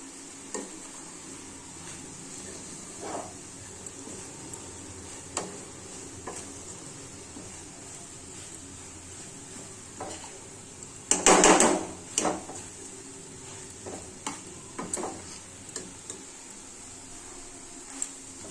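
A grated coconut sweet mixture is stirred in a pan, with quiet scraping strokes over a faint sizzle and one louder clatter of the spoon against the pan partway through.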